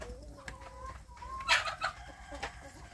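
Young kampung chickens in a simple rearing coop, with soft clucks and a sharp squawk or two over a quiet background, close by and irregular.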